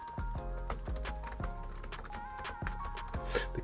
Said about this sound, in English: when you're typing on them, you get a nice click feel